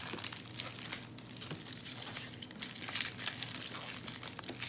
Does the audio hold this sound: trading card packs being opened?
yes